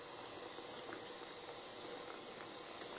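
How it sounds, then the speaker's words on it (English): Water is poured onto coffee grounds for cold brew, making a faint, steady trickling and fizzing hiss with no talking. "Put some water in and gently stir off the sides and break it up."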